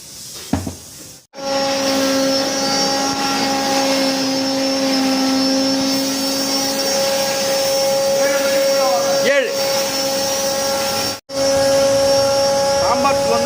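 A grinding mill machine runs steadily while grinding sambar powder, a loud continuous whine with tonal hum, briefly cut off twice, with people talking over it.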